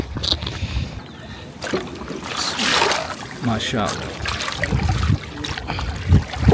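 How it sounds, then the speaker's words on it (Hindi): Cold stream water is filled into a bottle at a mountain base camp on a trek to Chitta Katha Lake, gurgling and splashing under rushing water while people talk nearby. "पानी जी ख़त्म हो गया, ज़रा पानी डाल लेना चाहिए।"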